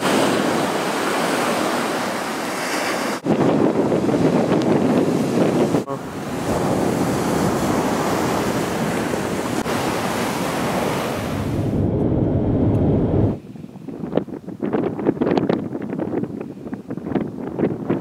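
Rough sea surf breaking on a beach near Jökulsárlón, Iceland, a steady loud roar of waves with heavy wind buffeting the microphone throughout, shifting in tone as gusts come and go.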